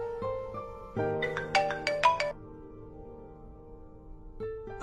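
A phone ringtone chimes an incoming call, a short melodic run of bright electronic tones that starts, climbs and repeats once more briefly, close and clear with no talk.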